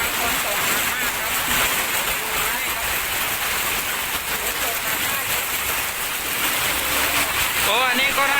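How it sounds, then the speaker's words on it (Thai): Very heavy rain pours in Huai Khwang district, Bangkok, a dense, constant hiss of drops on street surfaces with passing cars, while a voice talks over it near the end. "ที่กรุงเทพมหานครครับเขตห้วยขวางครับฝนตกหนักมากครับ"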